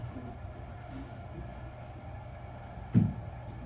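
A subway train rumbles steadily from inside a car near Montgomery Street station, with a low continuous roar, rattling wheels and a brief clunk near the end.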